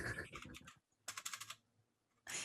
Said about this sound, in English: I love that you have a typewriter plugged into your computer.